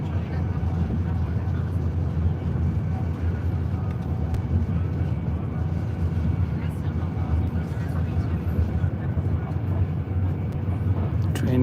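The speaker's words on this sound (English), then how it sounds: "You see how fast train is." Inside a fast-moving train, probably a UK service toward Milton Keynes and Coventry, a steady low rumble and hum of running noise continues throughout with no sharp events.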